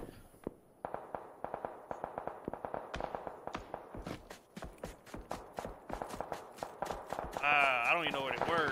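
Rapid gunfire in a video game, with many sharp shots in uneven bursts under frequent talking, ending in a louder tonal effect.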